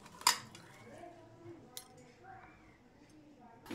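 Rohu fish pieces tossed with salt and turmeric powder in a bowl, giving a sharp metallic clink near the start and another at the end, with soft scraping and faint talk between.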